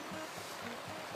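Flowing creek water at Jackson Creek along a park bike trail, a steady broadband rush with soft low surges, close and continuous, with no talk.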